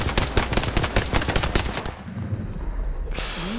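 Rapid automatic gunfire from a video game rattles loud and close for about two seconds, then breaks off into a quieter, fading tail with no voices.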